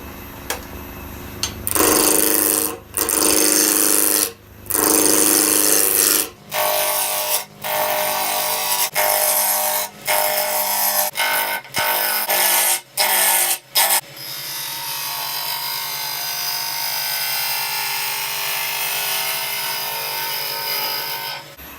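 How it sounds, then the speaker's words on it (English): Ash blank spun on a wood lathe at about 1500 RPM and roughed round with a roughing gouge: loud dense whooshing cuts broken by short pauses, then a steadier hum of the lathe running alone. "So we're going to turn the lathe on and bring it up to speed, about 1500 RPM."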